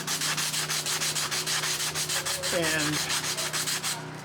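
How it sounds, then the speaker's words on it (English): A sanding block rubbed over a wooden puppet in regular back-and-forth strokes, a close, rhythmic scratchy hiss, joined by a brief voice partway through. "I'm going to start with the sanding block and just, you know, go at it"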